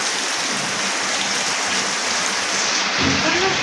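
Steady, heavy rain pours down close by, a dense unbroken hiss that fills the whole stretch with no voices over it.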